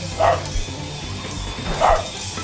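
A dog lets out two short, close barks, evenly spaced about a second and a half apart, over a low indoor background hum.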